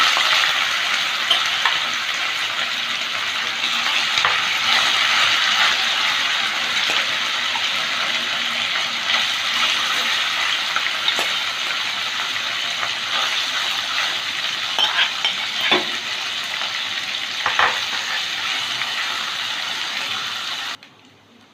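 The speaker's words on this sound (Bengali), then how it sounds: "এবার চিকেনটা ভেজে নেবো" Chicken pieces frying in hot white oil in a kadai, a steady loud sizzle that holds evenly throughout with occasional crackles, no voices.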